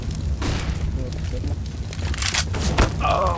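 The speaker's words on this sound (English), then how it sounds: "I am throwing a flashbang" Flashbang grenade going off in CS:GO, a dense booming burst with sharp bright cracks over a continuous rumble of game noise, with a ringing tone rising near the end.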